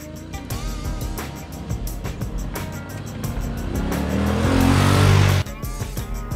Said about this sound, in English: Oh man, this thing is so fun to just push through the trails.